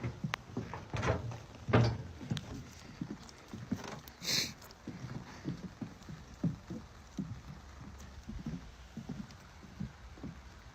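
Irregular soft thuds and crunches, like footsteps moving over ground outdoors, fairly close, with a steady background hiss; no talking.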